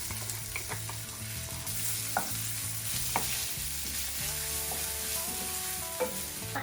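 Crushed pepper, ginger and garlic sautéing in a hot pan with a steady, faint sizzle and occasional soft stirring taps, close and continuous, with no voices.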